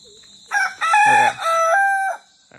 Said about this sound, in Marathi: कालची सुरुवात गावी कोंबड्याच्या आरवण्याने होती